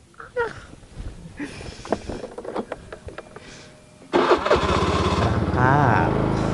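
A motorcycle engine is started after a few seconds of people talking and rustling nearby, then roars up and keeps running steadily and loudly close by, while a voice speaks over it.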